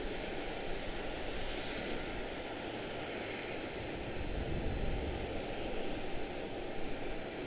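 A CRJ900 regional jet at Charlotte Douglas airport gives off a steady, moderately loud engine roar with broadband rushing noise that holds throughout, swelling slightly midway, with no talk.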